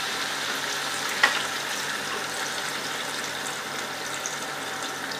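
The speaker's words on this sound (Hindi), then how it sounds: "टमाटर डालने के बाद मैं इसमें पानी डालूंगी।" Water poured into a pot of frying tomatoes and mutton curry gives a soft, steady sizzle and hiss with a light splash, fairly quiet and close, with no talking.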